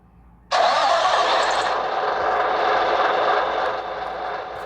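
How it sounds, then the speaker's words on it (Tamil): A Hyundai i20 car engine cranks and catches abruptly, settling into a steady, loud close-up idle that eases slightly toward the end, with no talking. "இப்போ நம்ம வந்து காருக்குள்ளே ஏறிட்டு இன்ஜின் ஆன் பண்ணுவோம்."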